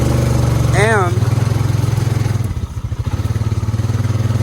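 A Honda Rubicon 520 ATV engine chugs steadily up close while riding over rough holes, a rapid low throb with varying load, as someone speaks briefly over it.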